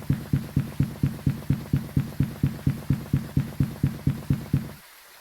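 A Moroi ghost in the Phasmophobia video game at zero sanity makes a steady, fast, throbbing pulse of about four beats per second. The dull, heartbeat-like thumps repeat evenly and end abruptly after roughly five seconds.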